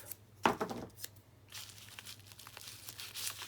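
A quick ripping of masking tape off the roll, followed by softer crinkling and scratchy handling noises over a low hum.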